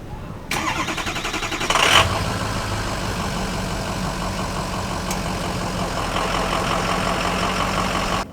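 A Dodge RAM 1500 Classic crew cab pickup with a 5.7-liter Hemi V8 starts, catching with a brief rising surge, then settles into a steady, smooth idle rumble that continues evenly to the end.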